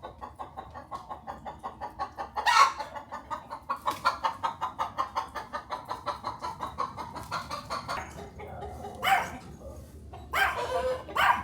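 A backyard chicken in Hoi An, Vietnam clucks in a rapid, steady rhythm throughout. Several louder squawks or barks break in near the middle and the end.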